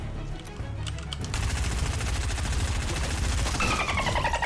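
Rapid gunfire in Fortnite, a fast dense burst of repeated shots that starts after a short quieter stretch and holds loud and steady to the end.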